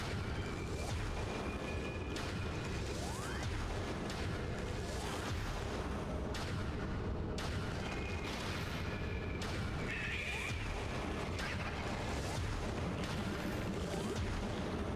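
Missiles fired at an enemy in Metroid Prime land as a string of faint, dull booms and bursts over a steady background of game noise.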